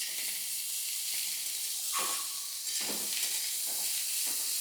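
Drumstick flowers and slit green chillies sizzle steadily in a pan for a village-style vegetarian curry, with a spoon scraping and stirring through the hiss in a few distinct strokes; no one speaks.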